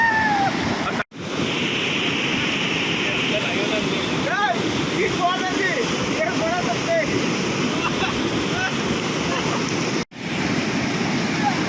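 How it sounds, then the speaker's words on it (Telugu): A fast-flowing stream of water heard outdoors as a loud, continuous roaring rush with wind buffeting the microphone, with faint voices and a few whistle-like calls in the background. "ఎందుకంటే ప్రవాహ వేగం చాలా ఎక్కువగా ఉంది"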